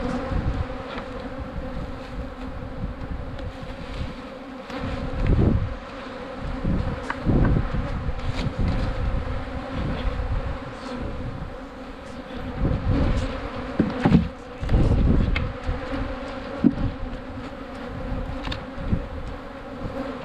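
Honey bees drone loudly around an open beehive being graded and fed with pollen substitute, a dense continuous buzz close to the ear, broken by occasional louder swells and faint knocks from hive handling.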